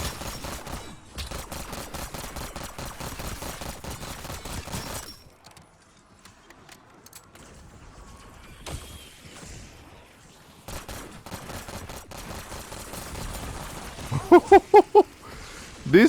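A full-auto gun rattles in Black Ops 6 Zombies, firing dense rapid bursts for several seconds, pausing, then opening up again in another long stream of shots.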